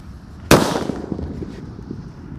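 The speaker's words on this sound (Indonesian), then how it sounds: "Kita lanjut menyalakan mercon Halilintar warna kuning seperti ini guys" A yellow Halilintar firecracker goes off with one sharp, loud bang nearby, followed by a brief crackle and scattered small pops as the sound dies away.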